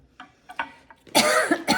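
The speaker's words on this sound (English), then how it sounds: "Man, they're making me cough." Close, loud coughing from jalapeño pepper fumes: a few small throat sounds, then a heavy harsh cough with a second short one right after.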